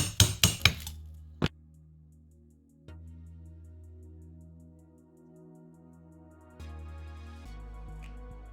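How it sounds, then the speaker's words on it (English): A chisel struck by a hammer rings out in a quick burst of sharp metallic blows, then one more hit, on a microwave transformer core, with long resonant hums and tones lingering between the strikes. "Chisel is working like miracle."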